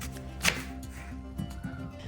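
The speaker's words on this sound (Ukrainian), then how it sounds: "Для цього нарізаю яблука невеличкими кубиками." A knife chops apples into small cubes on a board, giving a few quiet, close, separate cuts, one sharper knock near the start and softer ones after, with no talk.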